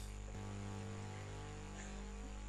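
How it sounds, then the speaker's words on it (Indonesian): Low, constant machine hum drones quietly in an otherwise silent room, unchanging from start to finish. "itu suara mesin komputer aku"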